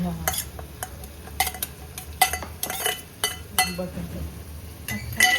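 Half a cup of chopped French beans tipped into a pan of pav bhaji vegetables and stirred, with repeated sharp spoon clinks and scrapes against the metal pan over a low frying background, close and irregular.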